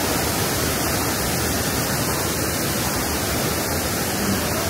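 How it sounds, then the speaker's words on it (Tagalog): Tacuran Falls near Calapan, Oriental Mindoro, pours in a steady, loud, unbroken roar of rushing water that stays even throughout. "This is Tacuran Falls near Calapan, Oriental Mindoro."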